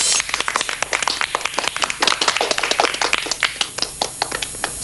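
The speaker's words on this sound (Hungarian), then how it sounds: "A nézőközönség tapsol, tapsol a nézőközönség." An audience claps steadily for several seconds, a dense run of sharp hand claps at fairly close range with no voices over it.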